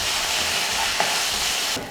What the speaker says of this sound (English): So I've been stir frying this for about 5 to 6 minutes on very high heat